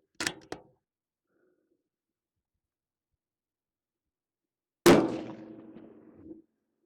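A rifle steadied on a barricade with one bipod leg extended fires a single sharp, loud shot that rings and decays over about a second and a half, preceded by two quick mechanical clicks and then near silence.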